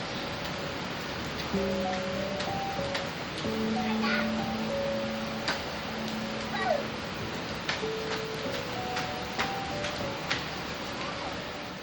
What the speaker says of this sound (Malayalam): മഴയൊക്കെ പെയ്ത് സെറ്റായിട്ടിരിക്കുകയാണ്